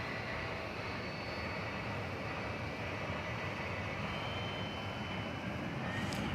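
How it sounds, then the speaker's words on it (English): A Spirit Airlines Airbus A320 arriving from Las Vegas at DFW Airport produces a steady, distant broadband roar of jet engines that holds evenly throughout. "We have, coming in at this time, Spirit Airlines Flight 2700. This will be arriving from Las Vegas and on Airbus A320."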